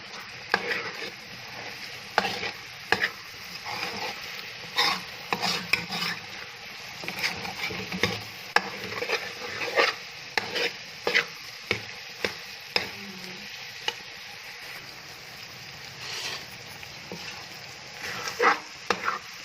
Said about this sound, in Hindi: इसको अच्छे तरीके से इसमें चम्मच हिलाते हुए हमने पकाना है